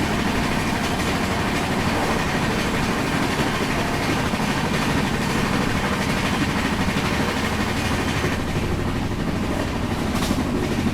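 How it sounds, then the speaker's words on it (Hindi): Steady loud rumble and rhythmic clickety-clack of an express train running at speed on an Indian main line while overtaking the Yoga Express, a passenger train bound from Rishikesh toward Sabarmati, heard continuously from on board. "यहाँ अभी हम ओवरटेक कर रहे हैं जिस ट्रेन को, उसका नाम है योगा एक्सप्रेस।"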